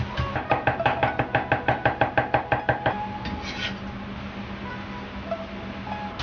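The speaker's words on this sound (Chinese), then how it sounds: "再剁成姜米" A kitchen knife mincing a small piece of ginger on a cutting board gives a quick, steady run of about fifteen sharp, close chops, then gives way to softer scraping and quiet rustling.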